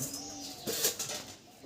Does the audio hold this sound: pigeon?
yes